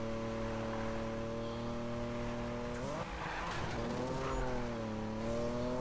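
A racing car in a Need for Speed video game drives with a loud, sustained engine drone, then its tires squeal through a drift midway before the engine pulls steadily again.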